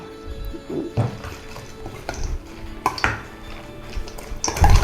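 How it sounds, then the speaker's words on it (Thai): Glass noodle salad with fried dried shrimp being tossed in a dish, giving close, irregular clinks and scrapes of utensils against the plate over a few seconds, with no talking. "นี่เราคลุกเขาให้เข้ากันนะคะ"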